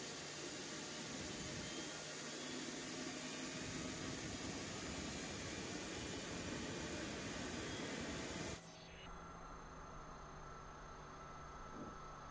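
A Pratt & Whitney 206B2 turboshaft engine starts on an EC135 helicopter, giving a loud, steady broadband turbine roar that cuts down abruptly to a quieter, lower whine for the last few seconds.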